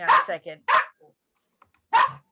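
A rescue dog with a bad hip barks indoors, close and loud, in a quick burst of three or four barks, then one more after a short pause. A person speaks briefly.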